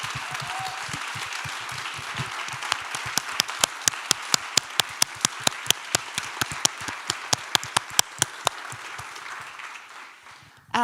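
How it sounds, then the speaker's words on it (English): An audience applauds presenters at a Q&A session. Soft, scattered clapping builds into distinct, sharp individual claps that stand out near the microphone, then the applause tapers and fades toward the end. "So if we could all give one round of applause to all our presenters,"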